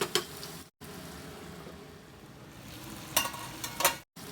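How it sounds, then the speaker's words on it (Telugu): Village-style spicy chicken curry fries with spices in a pan, a soft, steady sizzle with a few louder stirring scrapes near the start and end. "ఈ స్పైసెస్తో పాటు వేగనిద్దాము."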